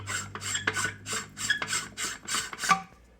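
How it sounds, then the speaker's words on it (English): An inlet manifold adapter is screwed by hand onto a motorbike carburettor manifold, giving a rhythmic series of about nine gritty metallic rasps from the threads, close and fairly quiet. "So this piece here screws onto the manifold."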